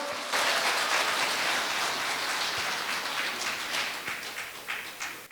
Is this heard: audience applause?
yes